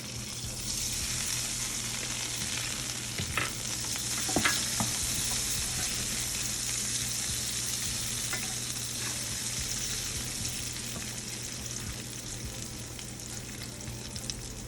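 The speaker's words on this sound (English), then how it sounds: "So now I'm just going to add my onions back with my garlic." Onions and garlic fry in a pot with a steady, close crackling sizzle that runs throughout, broken by a few clinks and stirring knocks of a utensil.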